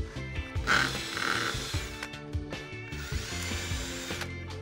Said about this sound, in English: whenever you're working on this finer timber, you want to do a pilot hole.